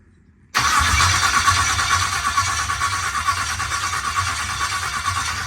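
An LS engine fires up for its first start after a moment of near silence, then settles into a loud, steady, rough idle close by with no voices.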